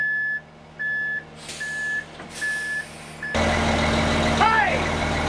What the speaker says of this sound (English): Here's the first truck.